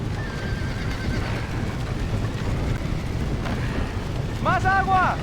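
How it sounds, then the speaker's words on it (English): Horses whinny and hooves clatter amid a roaring fire in the Red Dead Redemption video game, with a sharp neigh near the end over constant rumbling noise and muffled voices. "We gotta get to the horses!"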